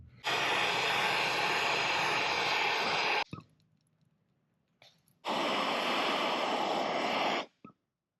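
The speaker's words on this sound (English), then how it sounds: "I turn on the compressor and slowly open the valve, waiting for something to blow up." A home shop air compressor on a newly installed air line runs loudly in two steady, roaring bursts separated by a short quiet gap, each cutting off abruptly.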